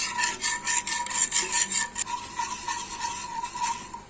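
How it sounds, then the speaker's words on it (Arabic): A spoon scrapes and stirs quick ten-minute cake batter in a bowl over a medium flame, with close, steady rasping strokes that repeat in an even rhythm and fade slightly toward the end. "ونخلطو الخليط تاعنا باش ما يتبركسلناش، ما بيناش دقريمو هكذا. حركو مليح."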